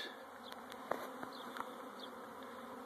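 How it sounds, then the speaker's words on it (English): A honey bee swarm clustered on a branch in Sacramento hums in a steady, dense buzz, with individual bees zipping close past the microphone now and then; no voices. "if they're going to continue to swarm on the branch"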